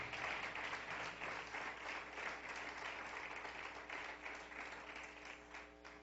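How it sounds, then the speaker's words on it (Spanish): A church congregation applauding together, a dense sustained wash of many hands clapping at moderate distance, fairly quiet and tapering slightly near the end. "usted dele ese fuerte aplauso al Señor"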